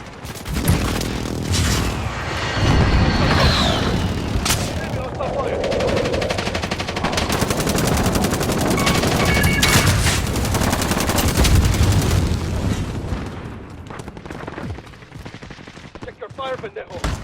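Sustained automatic gunfire and bursts in the video game Warzone, dense rapid shots with booms running almost continuously under game voice callouts, loud and close, thinning out near the end.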